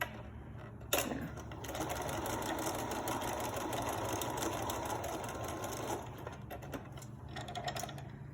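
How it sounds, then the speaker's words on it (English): A sewing machine stitching a second row along a face mask, a steady fast mechanical whir after a sharp start, running evenly for several seconds before slowing into a few uneven bursts. "go back to the first side and do the second row of stitching down here"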